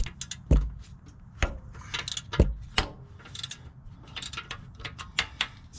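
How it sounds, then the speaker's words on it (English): A socket ratchet works on the 27 mm harmonic balancer bolt of a Jeep Wrangler JKU, giving a few sharp metallic clicks and knocks spaced irregularly over a quiet background. "my socket on front on the harmonic balancer bolt, which I believe is a 27. So I have to hold that in place while I go ahead and loosen that up"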